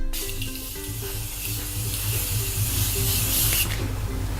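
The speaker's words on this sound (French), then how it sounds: "Et ça vous fait pas un gros spray, un gros pchit sur le visage." A Morphe facial mist sprays steadily onto a face as one continuous, close hiss of several seconds. It cuts off near the end of the clip.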